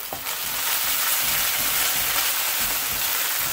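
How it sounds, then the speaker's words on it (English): Ginger and garlic sizzle hard in several frying pans of a fresh balti, a dense, continuous hiss and crackle that stays loud throughout with no talking. "we just want to sizzle the raw flavours from that ginger and garlic"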